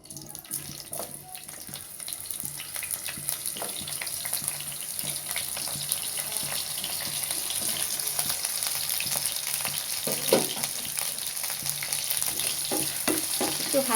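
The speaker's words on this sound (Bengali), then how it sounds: "আলুটাকে ভেজে নেব।" Potatoes frying in mustard oil in a pan, a steady broadband sizzle running throughout with occasional soft clicks of a utensil, close and fairly quiet.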